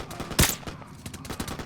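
Gunfire in Call of Duty 4, one loud sharp shot followed by a busy spread of softer bursts and battle noise through the rest of the clip.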